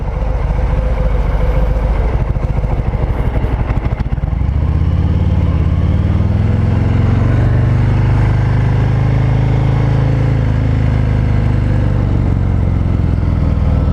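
A 2020 Harley-Davidson Breakout 114 motorcycle riding in first gear, its close, loud engine rumble deepening and swelling after a few seconds into a steady, smooth drone with no voices.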